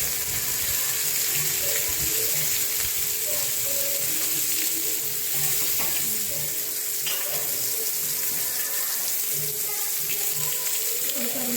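Fish frying in a pan for a Konkan-style dish of prawns, mackerel and fresh Bombay duck, a steady hiss and sizzle with faint crackles running continuously throughout, without talk.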